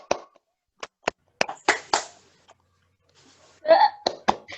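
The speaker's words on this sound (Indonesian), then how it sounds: "Tepuk semangat dulu ya." A classroom of children does a rhythmic spirit clap, sharp separate claps in short patterned bursts with gaps between them, close and fairly loud, with brief voices mixed in.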